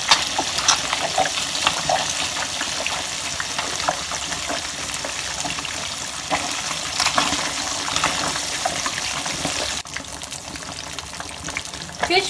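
Fish frying in a pan, salted while cooking, gives a steady close sizzle with crackling pops and a brief dip near the end, and no voices are heard.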